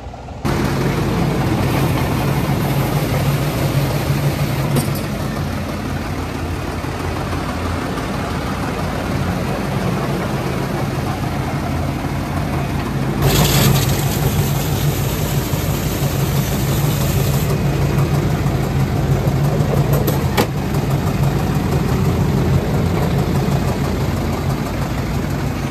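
A steady, rumbling tractor engine idles continuously at close range, low and even, with a brief louder hiss partway through.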